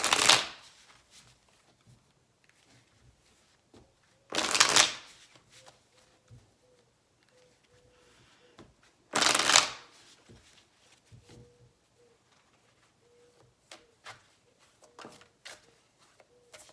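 Tarot cards shuffled in three short, crisp riffling bursts spaced a few seconds apart, close and clear, with quiet handling clicks between them.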